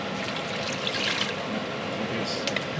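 Water streams steadily into a cooking pan of goulash, a continuous hissing pour close to the microphone with faint background noise.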